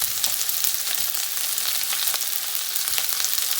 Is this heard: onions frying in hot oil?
yes